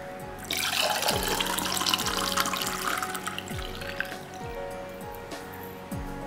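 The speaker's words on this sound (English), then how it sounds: "So now we'll pour our hot chocolate into the glass." Hot chocolate pouring into a glass: a close, continuous liquid stream splashes and gurgles for several seconds, then thins toward the end while faint knocks and clinks sound underneath.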